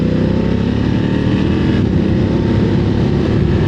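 BMW F900 GS parallel twin motorcycle engine of about 900 cc, running loud and steady at close range with a dense, constant rumble and no voices over it.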